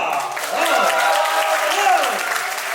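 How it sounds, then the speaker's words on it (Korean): Audience applause and cheering at a talk concert as performers are welcomed, continuous clapping with a few rising vocal shouts and music-like tones underneath, sustained at an even level. "큰 박수와 함성과 함께 한 번 맞이해보도록 하겠습니다"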